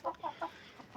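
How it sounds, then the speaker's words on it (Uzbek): Small black chicks chirp and cluck in short, fairly close bursts, about five quick calls with brief gaps between them, with no talk over them. "kichkina jo'jalar."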